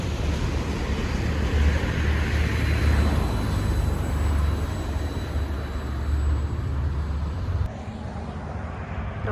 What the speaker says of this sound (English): All right, got train number 2 coming in.